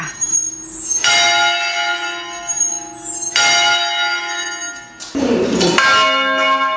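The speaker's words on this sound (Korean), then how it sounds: "낮 12시 첫 번째 타종을 준비합니다." A bell in a small old bell tower is struck by hand at noon, three loud clear strokes each ringing out with a long shimmering decay, heard alone.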